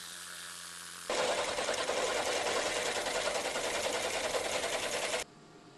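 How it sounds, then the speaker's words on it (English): A needle scaler hammers a brazed cast iron drill press part in one continuous, loud, buzzing rattle lasting about four seconds, starting and stopping abruptly over a quieter background hum. "Hitting it with the needle scaler does a pretty good job of mimicking the cast texture."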